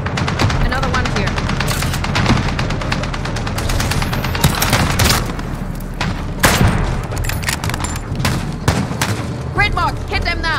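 Heavy gunfire in Call of Duty Modern Warfare, with rapid machine-gun bursts, sharp repeated shots and booming impacts in dense, loud volleys. Voices call out briefly amid the combat.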